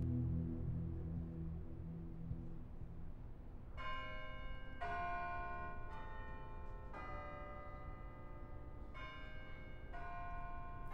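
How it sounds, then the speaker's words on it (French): A bell is struck about six times in slow succession, each ring sustaining a bright, layered metallic tone over a low background rumble. "Une cloche?"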